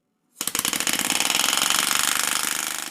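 Compressed-air piston engine with a ball valve, running in reverse, starts abruptly and settles into a rapid, steady mechanical chatter of closely spaced pulses, loud and close, with no talking.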